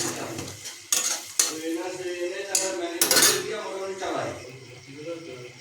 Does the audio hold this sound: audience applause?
no